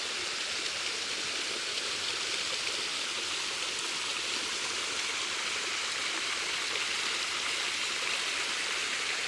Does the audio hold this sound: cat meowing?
no